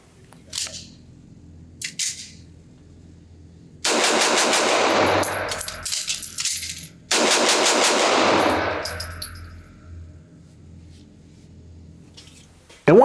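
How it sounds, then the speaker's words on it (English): A Langdon Tactical Beretta 92G pistol fires rapidly at a range in two long strings of loud, quick shots, separated by a short gap for a magazine change, with a few single clicks before. "I'm gonna try to shoot this thing kind of fast, change the magazine, and see how fast I can do it."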